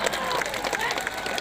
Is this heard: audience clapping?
yes